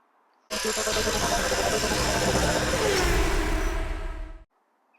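A 1994 Jeep Wrangler YJ engine idles with a steady, fairly loud rumble that starts abruptly and cuts off after about four seconds.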